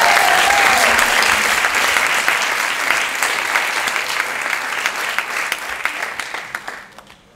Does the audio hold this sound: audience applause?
yes